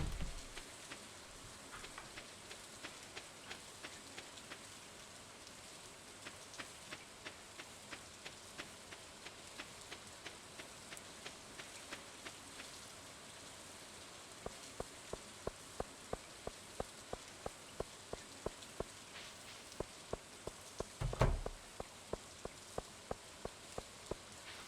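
Steady rain falls in the Stardew Valley video game, a soft continuous hiss with a regular patter of small ticks and drips growing sharper in the later half, no voices.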